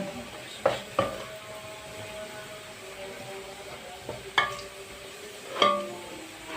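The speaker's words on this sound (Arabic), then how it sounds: "حمر البصله،" Onion frying in a pan, a soft steady sizzle broken by a few sharp clinks and scrapes of a utensil stirring against the metal.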